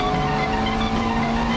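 A Ferrari 430 pulls through a hairpin corner under power, its engine howling loud and steady with a sustained high-revving note and a hint of tire squeal.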